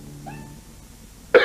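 A man with a cold coughs in a 1996 Vicks NyQuil commercial: one sharp, loud cough bursts out near the end after a faint, thin whine and a quiet stretch.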